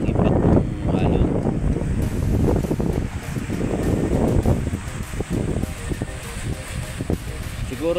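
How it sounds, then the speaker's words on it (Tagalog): Waves crash and surge under strong, buffeting wind, a loud continuous roar with pulsing surf bursts that ease slightly toward the end. "Malakas ang impact ng alon."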